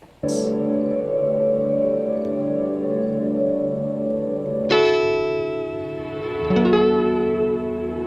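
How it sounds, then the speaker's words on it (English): Guitar played through an ambient, shoegaze-style reverb effects pedal, washed-out notes swelling in and sustaining with long echoing tails, a second and third chord blooming in later, heard alone without talk. "Very ambient, shoegaze-inspired reverb that swells in."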